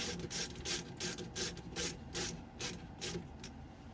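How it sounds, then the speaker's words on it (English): Action screws are spun into a Madsen M47 rifle action, giving a quiet, close series of rhythmic rasping clicks in regular short bursts. "our 2 screws, short one at the front, longer one at the rear, and let's spin these in"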